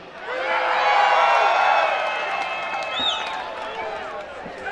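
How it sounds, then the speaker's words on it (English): A large crowd at an outdoor MMA cage-fighting event roars and cheers, a sustained swell of voices with scattered whoops and clapping, loudest in the first half and tapering slightly toward the end. "Sound of applause."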